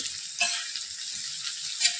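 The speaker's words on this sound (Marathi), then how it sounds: "आता ही भेंडी आपण तेलात खालीवर करत मिक्स करून घेणार आहे" Okra frying in oil in a wok and being turned over with a spoon, a moderate steady sizzle broken by two brief scraping stirs, no voices.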